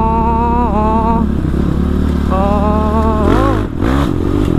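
A Kawasaki KLX 450 supermoto motorcycle roars close and loud during a ride, its engine holding a steady high rev with rising and falling pitch shifts, then a sharp throttle change near the end.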